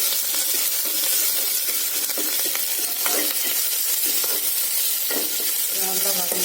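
Curry leaves sauté in hot oil for a drumstick and lentil sambar, giving a steady close sizzle with intermittent scraping stirs and small crackles throughout.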